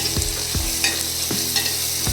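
Rice fries in a tempering for Maharashtrian khichdi, sizzling steadily while a spoon stirs through it in regular scraping strokes, about once every half second, close and with no voices.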